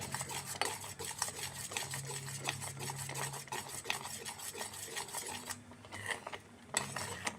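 Oats mixed with a pinch of salt are stirred in a pot, giving steady scraping and clinking of a utensil against the pan with a faint simmer beneath, fairly close and continuous with no talking.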